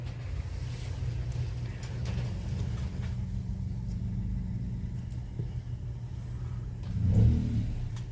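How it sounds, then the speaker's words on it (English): A car with a broken muffler pulls in close by, its deep, rough low rumble running steadily throughout and swelling louder near the end as it arrives home. "Oh, you're gonna hear the car coming in."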